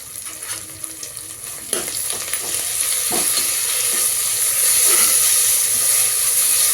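Ginger garlic paste frying in hot oil with curry leaves and coriander, a loud continuous hissing sizzle that swells over time, with occasional stirring scrapes.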